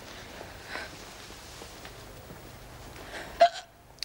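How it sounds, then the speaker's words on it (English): A single sharp hiccup near the end, loud and abrupt against a quiet indoor room, followed by near silence. "Now I've got hiccups."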